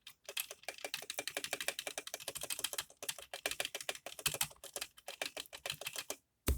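Typing on a Redragon K530 mechanical keyboard with Otemu Red switches, the case foamed and foam added under the spacebar: rapid, even clacks in quick bursts with a brief pause near the end, close and alone.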